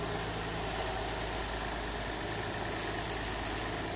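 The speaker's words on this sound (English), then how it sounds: "Nice exhaust pitch. It sounds fuck a lot better than it did." Close, steady idle of a Nissan VQ35DE V6 freshly retimed, an even low engine rumble and exhaust note holding without ticks or hesitation, no voices.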